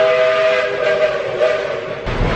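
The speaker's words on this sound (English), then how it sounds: "Train just went by." A passing train sounds a long, sustained steam-style whistle with steady tonal layers over rumbling rail noise, loud and close, shifting slightly as it goes by.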